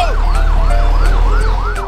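A loud warbling siren rises and falls in quick repeated cycles, close and steady, with an electronic toy-like tone over a low rumble.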